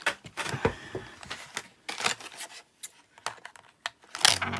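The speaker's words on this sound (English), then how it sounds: "I'm gonna have to use a pair of scissors for this." Sharp, irregular snips and crinkling rustles of plastic action-figure packaging being cut with scissors, close by, in short bursts with brief pauses between.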